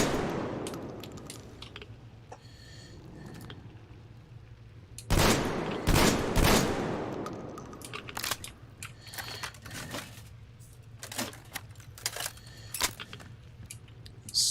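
Gunfire from a gun in a video game, heard as rapid bursts of sharp shots with a dense cluster in the middle, layered over a steady low game hum, with no talking.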